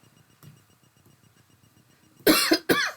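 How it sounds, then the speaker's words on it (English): During a math lecture, after a quiet stretch with faint murmuring, two sharp, loud coughs burst out close by near the end from a speaker recovering from COVID. "Please pardon me with this cough."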